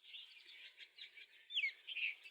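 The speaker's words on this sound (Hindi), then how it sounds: "ये बुलबुल बिल्कुल सामने आके बैठी हुई है" Bulbul and other birds chirping together, a steady run of bright tweets and calls near the listener, with one sharper, louder call toward the end.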